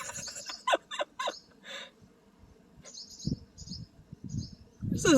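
Around a barn, a bird chirps and calls in short bursts while it dive-bombs a cat. The bird sounds are close to moderate in loudness, mixed with rustling and some soft background voices.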